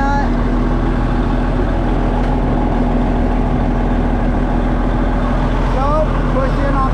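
International Harvester Dresser TD20G bulldozer engine running while the dozer drives, a loud continuous low diesel rumble close by, with someone talking over it.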